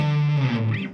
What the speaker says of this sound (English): And then if we get some nice distortion on.